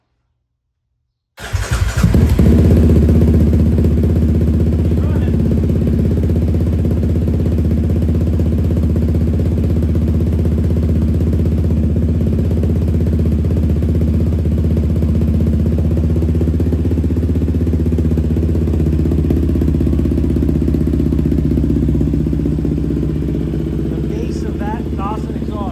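A Yamaha Raptor 700 ATV with a Dasa exhaust fires up and settles into a loud, deep, throbbing idle close by, running steadily for over twenty seconds with slight clatter, while people speak faintly in the background.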